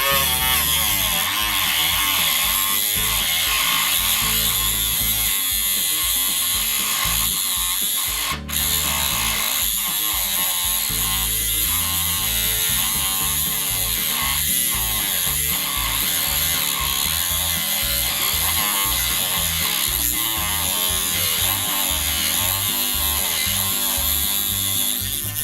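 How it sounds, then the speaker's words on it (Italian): Dremel rotary tool cutting through flexible H0 scale model railway track, a continuous high-pitched grinding whine held steady and close for the whole stretch, with a brief dip partway through and no talking. "Ora col Dremel andiamo a fare il taglio."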